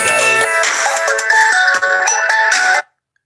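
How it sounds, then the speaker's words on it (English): A phone ringtone from an incoming call plays loudly and continuously for nearly three seconds as a bright melodic electronic tune, then cuts off abruptly into silence. "I'm getting like 2 or 3 different phone calls and everything"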